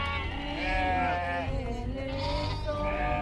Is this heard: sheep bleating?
yes